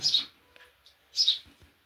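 A small sparrow chirps twice, bright high calls about a second apart, fairly close, with faint low rustling and handling noise between them.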